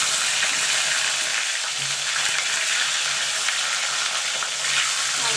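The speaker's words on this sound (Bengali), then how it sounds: "এবার দিয়ে দেবো আলুটা।" Diced potato frying in hot oil with green chilies and black cumin seeds for a cauliflower-stalk dish: a steady, dense, close sizzling hiss that holds evenly for the whole stretch, with no talking.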